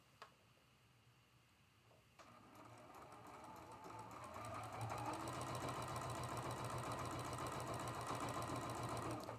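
A domestic sewing machine runs a quarter-inch seam on a quilt block, starting quietly and building to a steady, continuous whir that holds to the end, with no talk over it.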